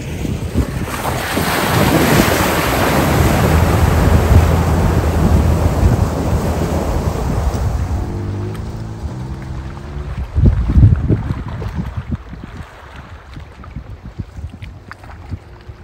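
An off-road vehicle ploughs through deep water on a snowy mountain trail near Big Bear, a loud sustained rush and splash that fades after about eight seconds into quieter engine rumble and dripping.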